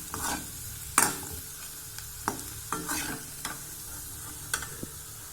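Vazhakkai (plantain) fry sizzles softly in a pan while a spoon stirs and scrapes it, giving a low steady frying hiss broken by several sharp clinks at irregular intervals.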